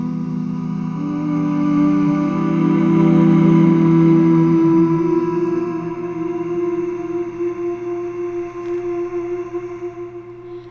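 A sampled folk-style vocal patch from a Spitfire Audio library sings a sustained wordless melody, swelling in the middle, then thinning into softer held notes before fading.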